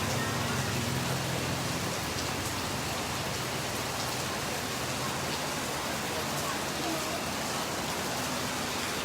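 Heavy rain falls steadily and loudly on surfaces outdoors, a dense continuous hiss of drops with no break.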